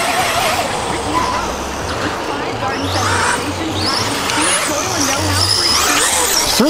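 A Tekno EB410 RC buggy with a HobbyWing ESC runs nearby, its electric motor whining in rising and falling sweeps as it speeds up and slows, under steady background noise and some talk.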